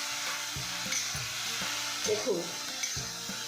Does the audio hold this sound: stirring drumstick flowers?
yes